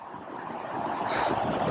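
Fast, turbulent water of the Gorkhey River in the Darjeeling hills rushes in a steady broadband roar that swells slightly louder toward the end, with some wind noise mixed in.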